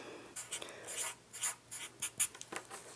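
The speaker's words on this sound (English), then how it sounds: "So first off, we're going to just write down a love feeling. I'm actually going to write love." Pen strokes scratching across paper while the word love is handwritten for a Mother's Day butterfly craft, short soft scribbling bursts in an uneven rhythm, close and quiet with no talking.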